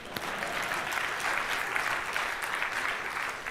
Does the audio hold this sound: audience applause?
yes